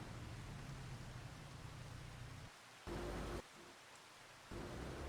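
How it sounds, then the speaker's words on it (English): Steady rain falling in Farming Simulator 25, a broad even hiss that holds throughout, briefly swelling louder and dipping quieter in sections, with no talk over it. "There's the rain."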